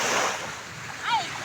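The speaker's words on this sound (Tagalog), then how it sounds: "Andito po kami sa may dagat." Sea waves washing on a hot beach, a soft continuous surf wash with wind noise on the microphone and a voice briefly speaking over it.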